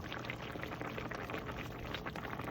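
A stew simmers in an uncovered pot, its soft, continuous bubbling and gentle popping steady and faint throughout, with no voices.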